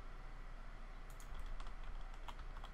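Faint clicks of a computer keyboard being typed on, a few scattered keystrokes over a steady low hum, with no one speaking.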